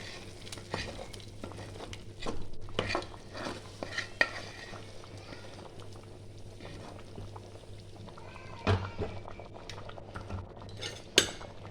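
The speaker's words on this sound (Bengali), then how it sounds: "আমি এবার খিচুড়ির মধ্যে আমি মশলাটাকে দিয়ে দেবো।" A spoon stirring spices into khichuri in a cooking pot, close and soft, with scraping strokes and light clinks against the pot over a low steady hum, no talking.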